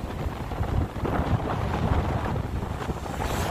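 Strong wind roars and buffets the microphone during an outdoor road ride between Air Joman and Kisaran, a dense, steady rush with no voices.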